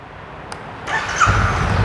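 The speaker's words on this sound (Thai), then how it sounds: "จะมาฟังเสียงท่อคันนี้กันครับ" A 2023 Honda Rebel 500 Bobber motorcycle with an aftermarket exhaust fires up after a quiet moment, its engine catching and settling into a loud, close, steady rumble.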